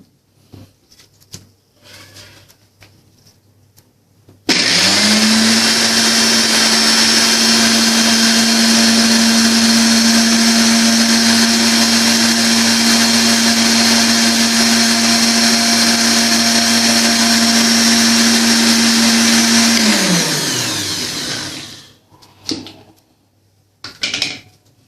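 A blender whirs at high speed for about fifteen seconds, mixing homemade mayonnaise ingredients with sugar, then winds down and stops; it is loud and steady, with quiet kitchen sounds before and after.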